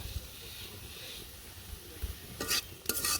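Five kinds of leafy greens frying in a pan for village cooking: a low, steady sizzle, then two sharp clattering stirs of a spatula against the pan near the end.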